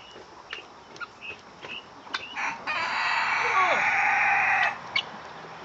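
Farm chickens, including laying hens and white hens, cluck in short scattered calls, then one bird lets out a long, loud drawn-out squawk before the clucking resumes nearby.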